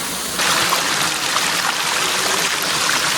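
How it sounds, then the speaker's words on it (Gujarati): A small mountain stream rushes near the Khuniya Mahadev waterfall at Pavagadh in Gujarat, a steady bright babble of flowing water that swells in after a quiet start and stays close and even. "આ તમે જોઈ શકો છો એકદમ બ્યુટીફુલ ઝરણું તમને જોવા મળશે"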